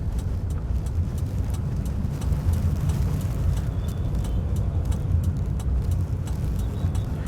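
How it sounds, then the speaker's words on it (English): A manual car pulls away slowly in first gear through city traffic, its engine hum low and even beneath faint road and traffic noise, with no voices. "I put the car in first gear, slowly release the clutch and give a gas."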